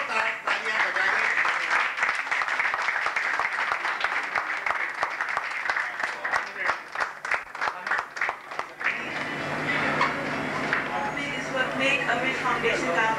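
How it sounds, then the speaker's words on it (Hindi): Large crowd at an inauguration ceremony breaking into sustained applause, dense loud clapping for several seconds that thins out, followed by a speaker's amplified voice over a quiet hall. "आप लोग सब एक जोरदार तालियां बजाइए।"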